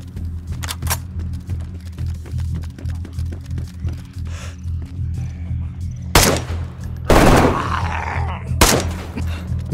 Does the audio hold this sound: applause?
no